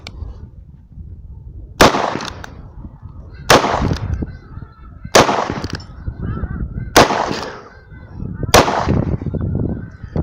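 Five loud gunshots from a Colt Peacemaker clone single-action revolver at an outdoor range, evenly spaced about every one and a half seconds, each a sharp close crack with a short ringing tail.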